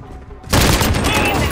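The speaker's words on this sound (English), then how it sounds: "Allied cruise missile away" Cruise missile strike in Call of Duty: Modern Warfare: after a quiet moment, a sudden loud blast erupts into a sustained roaring barrage of explosions and rumble.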